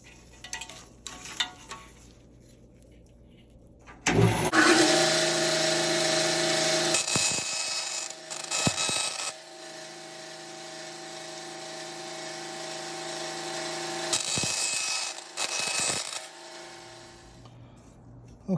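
A power tool cuts pen-making stock to narrow width, a steady high whining grind that starts abruptly, runs continuously with a few brief dips and bursts, then stops, close and loud.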